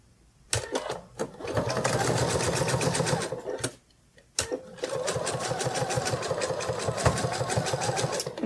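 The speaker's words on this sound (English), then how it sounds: "And then we're just going to sew around the legs here." A sewing machine stitches around the legs of a sitting kitty plush, running in two close bursts of rapid needle chatter separated by a short pause.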